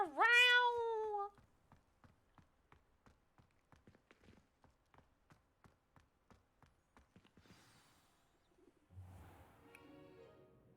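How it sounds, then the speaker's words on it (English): A cat gives a loud drawn-out meow at the start, followed by a run of soft rhythmic ticks and faint rustling in a cartoon setting, with no speech. "Meow!"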